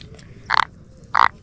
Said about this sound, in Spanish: Escuchen el sonido. Cómo croa.